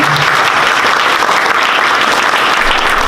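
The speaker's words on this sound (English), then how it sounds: "The applause you heard is the mayor of Dumfries applauding that." Steady applause from a meeting audience, with the mayor of Dumfries among those clapping at a Prince William road and parking projects presentation, dense and unbroken, fairly close and loud throughout.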